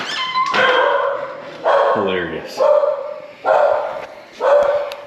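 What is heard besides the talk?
dog barking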